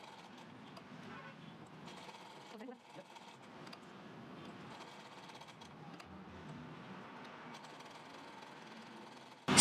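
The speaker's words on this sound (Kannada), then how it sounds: "ಸೊ ಸಿಂಪ್ಲಿ ಇವಾಗ ಸ್ಟಿಚ್ ಮಾಡೋಕ್ಕೆ ಶುರು ಮಾಡಿ." A sewing machine stitches puff sleeves with a continuous, fairly quiet mechanical whir and rattle, running steadily for the whole stretch with a brief pause partway through.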